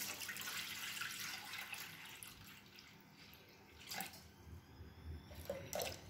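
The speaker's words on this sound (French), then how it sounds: "je vais mettre 500 g d'eau dans le bol du Thermomix." Water pouring into a Thermomix bowl, 500 g of it, a faint steady splashing stream that trails off into a few drips, with no talk.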